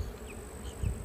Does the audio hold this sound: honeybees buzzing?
yes